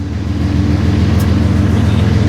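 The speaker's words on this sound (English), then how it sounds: "You can hear the sound of that diesel engine revving up." A heavy diesel locomotive engine drones with a deep, steady rumble that swells slightly as it revs, loud and continuous with no talking, leaving a rail yard.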